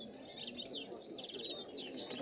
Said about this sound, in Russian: Вот поют прямо на выставке птицы.